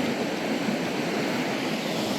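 Fox River rapids rushing water in Wisconsin, a dense, steady, broadband roar that holds unbroken throughout, close by and loud with no voices.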